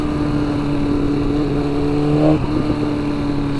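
A sport motorcycle with traction control riding in cold, near-freezing weather, its engine droning steadily with a constant tonal hum and wind noise, then briefly shifting pitch near the end as if changing gear.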